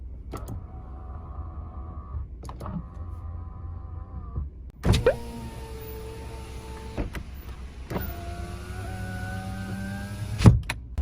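Electric folding side mirrors on a Kia Morning Urban whir in short motor bursts, a few separate runs with clicks and thumps as each mirror stops, close and fairly loud, with no voices.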